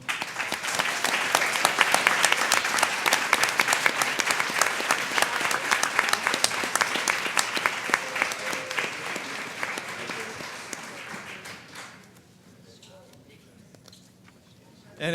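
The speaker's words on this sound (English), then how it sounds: "one more round of applause" Sustained applause from an audience at a Bethlehem Central school board meeting, many hands clapping steadily for about twelve seconds before fading to quiet room tone.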